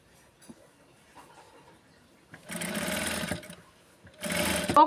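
A sewing machine stitches a blouse petticoat in two close, loud bursts of fast running, each lasting around a second. Quiet handling noises come before them.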